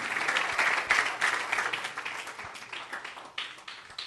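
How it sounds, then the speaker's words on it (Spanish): A church congregation claps loudly at an evangelist's revival service, a strong burst of applause that gradually thins and fades, with a few scattered claps lingering near the end. "den un fuerte aplauso al Señor"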